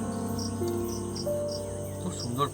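Crickets chirp steadily outdoors during an evening meal served on banana leaves on ground mats, a continuous pulsing trill with a few faint tonal calls woven through.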